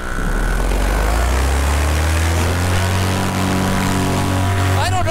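A motorized aircraft engine cruising in slow flight at about 6,000 RPM, producing a loud, steady propeller drone with strong low harmonics that holds throughout, with brief voice-like sounds near the end.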